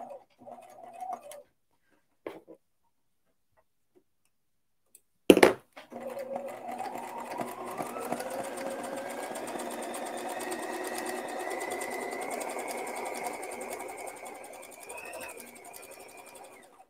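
An old shirt collar being free-motion embroidered on a sewing machine fitted with a darning foot: a steady, fast mechanical whir that runs continuously for about eleven seconds after a sharp click and a few faint knocks.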